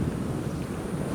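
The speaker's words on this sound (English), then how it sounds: "Nice and windy, no rain today." Wind blows steadily outdoors on an overcast day, a constant broad rushing roar buffeting close to the microphone with no other sounds.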